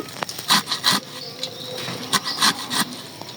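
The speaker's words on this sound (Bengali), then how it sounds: "শাকটা ধুয়েছি শাক কাটছি" A knife chops through mustard greens on a cutting board, giving uneven crisp strokes, some single and some in quick pairs, close up with a faint rasping texture and no talking.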